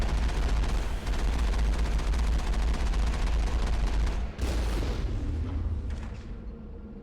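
Turret gunfire in Mass Effect fires as a dense, continuous, loud barrage, with one sharper blast partway through before the firing tapers slightly.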